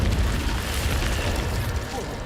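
A dull, steady boom-like rush of an Incendio fire spell in the game Hogwarts Legacy, loud and continuous for a couple of seconds with no speech over it.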